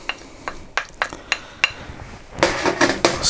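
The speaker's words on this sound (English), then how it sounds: "Stir that in a little bit." Caster sugar stirred into bread dough in a bowl for soft bread rolls, heard as a series of sharp, evenly spaced clinks of utensil on bowl, then a denser burst of scraping clatter near the end, close and clear with no talk.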